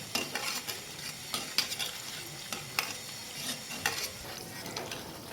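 Mysore bondas fry in hot oil with a soft continuous sizzle, punctuated by regular scraping clicks of a ladle stirring them in the pan, close and fairly quiet.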